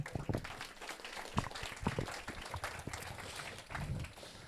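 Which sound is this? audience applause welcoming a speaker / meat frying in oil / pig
audience applause welcoming a speaker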